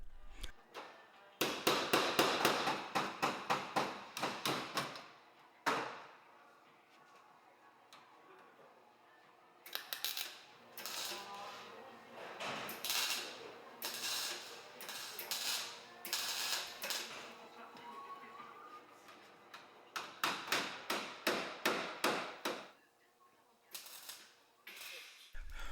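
New sheet metal is bent and cut piece by piece during a Citroën 2CV-Méhari body restoration. Bursts of rapid, rhythmic mechanical clacking come in several clusters separated by short quieter gaps.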